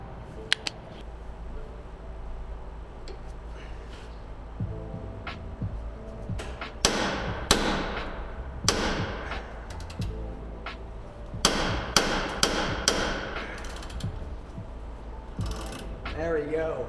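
Hand tools working the last bolt loose on a car with a poor-running 2JZ engine that is being lowered: clustered metallic clicks and ratcheting bursts over a low background hum, close by and intermittent.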